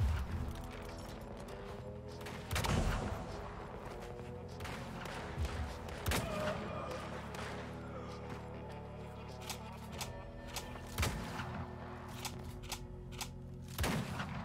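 Gunfire from the Western video game Weird West, a series of sharp shots scattered across a steady background of game music and ambience, with several distinct loud cracks spaced irregularly.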